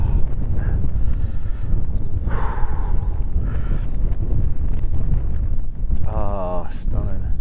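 Strong wind buffets the microphone on an open Dartmoor tor, a loud continuous rumbling roar with gusting swells, while a person talks intermittently over it.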